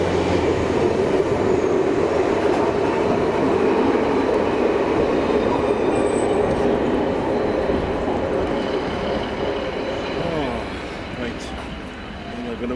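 Steam locomotive 34052 Lord Dowding with a freight train at Cardiff Central station, a loud steady rumble of rolling stock that continues throughout and eases slightly near the end, with faint voices nearby.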